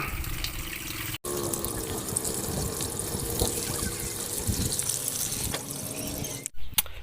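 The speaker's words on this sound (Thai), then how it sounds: "ต่อไปเราก็ล้างผักหวานกันนะครับ" Sweet leaf vegetables being washed under running water make a steady, close splashing and gushing flow in a sink, with brief interruptions as the leaves are moved about.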